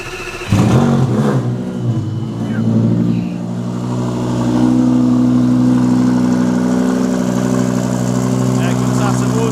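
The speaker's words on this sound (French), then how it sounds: "Le V10 au ralenti fait un bruit de malade" A V10 engine idles close by in a steady, rich droning rumble that begins after a brief bump and holds even throughout, with a slight swell in level midway.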